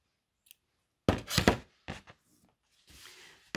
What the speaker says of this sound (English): snip my yarn